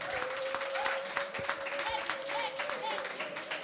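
An audience at a press conference applauds for Fabregas, a steady spread of clapping that holds at moderate loudness throughout, with a voice talking over it.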